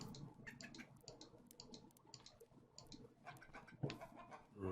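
Chickens cluck softly in the Animania mod of a video game, with scattered quiet bird calls and light ticking sounds, all faint and fairly distant.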